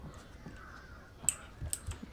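Birds caw a few times in the stealth video game Master of Shadows, short sharp calls scattered over a quiet background with faint clicking.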